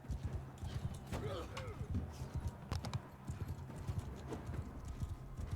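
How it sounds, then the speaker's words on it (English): Horse hooves clip-clop in the video game Mount & Blade 2: Bannerlord, a steady rapid rhythm of hoofbeats with a brief whinny, running under continuous game noise and someone talking. "I am on a horse."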